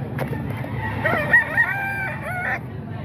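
A rooster crows once in a drawn-out, rising and falling call over a low murmur of background noise at a chicken market, where only a few birds remain for sale.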